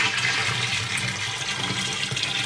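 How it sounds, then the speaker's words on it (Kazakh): Strained kumis, fermented mare's milk, poured in a steady, full liquid rush that runs unbroken and close throughout, with no talking. "Неге қымызды сүзіп құйып алдым."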